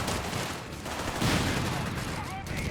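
Automatic rifle-squad fire rattles in Company of Heroes 3, a dense battlefield fusillade running continuously at mid distance with a commentator's voice talking over it.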